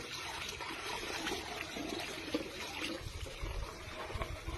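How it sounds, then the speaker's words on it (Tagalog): First-press coconut milk (kakang gata) pouring into a pot of dinuguan with jackfruit, a close, steady liquid trickle and splash that thickens toward the end. "isusunod ko na po kaagad yung kakang gata"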